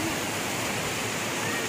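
Steady, loud rush of a waterfall and stream on a mountain hike, a dense unbroken roar of falling water filling the clip with no clear talking over it.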